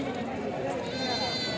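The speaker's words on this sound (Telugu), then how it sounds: "ఒక మేకల గుంపు అయితే ఉన్నదండి" Goats bleat briefly amid the busy murmur of a weekly goat and sheep market in Kadiri, with people talking close by over the animals.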